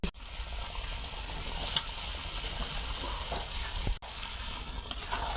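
Meat dropped into hot spiced oil with cumin, sizzling steadily and fairly loud throughout, with a brief clatter of a utensil near the end.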